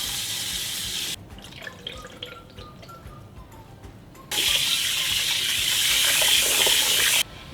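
Rice being washed under a running kitchen tap, with loud gushing water at the start, a quieter stretch of drips and splashes as the grains are handled, then the full stream returning.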